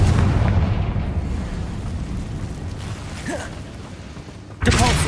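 Confringo fire spell cast in Hogwarts Legacy in the catacombs, a dense rumbling blast with crackle and a sharp burst near the end, loud and unbroken over game ambience.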